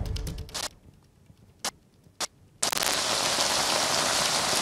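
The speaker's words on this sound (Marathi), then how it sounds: "आता मी पुण्यातील कॅम्प परिसरामध्ये आहे आणि आता जरी आपण बघितलं तर या ठिकाणी मुसळधार पाऊस सुरू आहे" Heavy downpour in the Camp area of Pune, a dense steady roar of rain pouring down, briefly dropping away and broken by short bursts before surging back loud and continuous.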